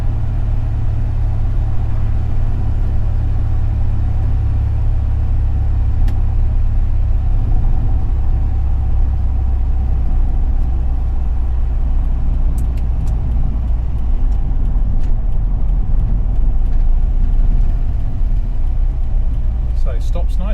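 A 1966 MGB GT is road tested and drives over a big bump. Loud, close engine drone and road rumble run throughout with heavy low-end thumping, and faint rattles and clicks show near the end.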